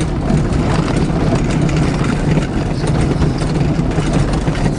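A car engine drones steadily while driving uphill in second gear on a hill road in India, a loud, continuous low rumble with no breaks.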